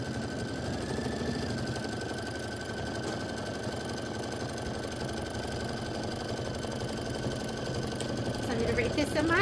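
Computerized embroidery sewing machine running a quilting stitch on a table-top display piece, giving a continuous close mechanical whirr with a steady high whine, a faint voice underneath.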